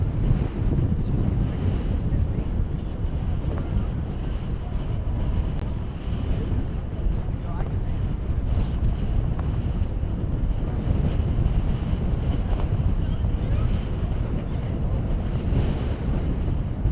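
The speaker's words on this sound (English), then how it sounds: "And the wind seems to be picking up." Wind buffeting a microphone at the DFW Airport plane-spotting area, a continuous loud low roar and rumble with faint distant aircraft noise underneath, lasting throughout.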